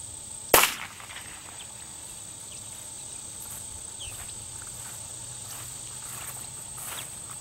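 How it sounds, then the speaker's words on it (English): A single sharp pistol shot fired at a swinging aspirin cracks once near the start, then fades into a steady outdoor bed of chirping insects with no voices. "that's how you shoot a swinging aspirin"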